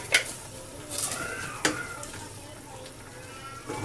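Sponge gourd is stirred with misua in a pan. A soft sizzle runs underneath, broken by a few sharp utensil scrapes and clinks against the pan, close and moderately loud.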